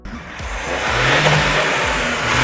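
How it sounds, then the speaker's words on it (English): Toyota hydrogen combustion engine revving, a rising, meaty mechanical roar that swells and holds loud and close, with a brief whoosh near the start. "its hydrogen-powered cousin makes a noise that is as good and, in our opinion, even better than the petrol-powered version"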